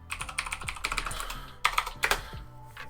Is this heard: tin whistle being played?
no